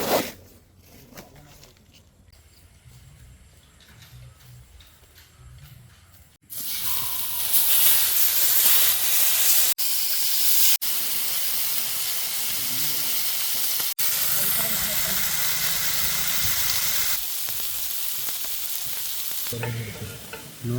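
Masala-coated fish sizzles loudly on a hot tawa at an outdoor village cooking spot, a dense steady hiss that starts after a quieter opening with background noise and keeps up strongly to the end.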